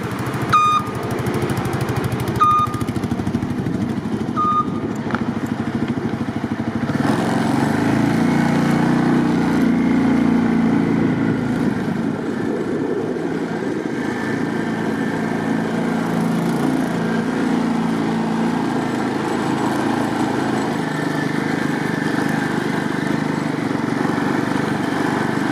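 A farm quad ATV engine runs steadily close by, a continuous rough mechanical drone that holds for the whole stretch with no speech over it.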